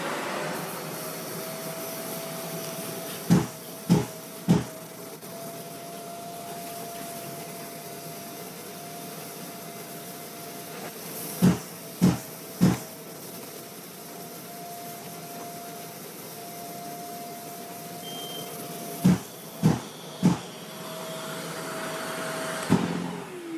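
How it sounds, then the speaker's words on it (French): A Bosch GAS 35 M AFC dust extractor drones steadily throughout, a constant whooshing hum broken by three short clusters of sharp clattering bursts as wood shavings rattle through the hose. "On va aspirer tout ça. On va remplir la cuve"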